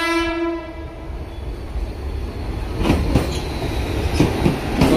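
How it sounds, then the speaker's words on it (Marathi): A Mumbai local train sounds a horn and passes alongside, with the long horn tone fading early and then rhythmic clacking wheels over the rail joints rumbling loud and near. "आणि हे साईडनं जे जात आहे ती लोकल गाडी"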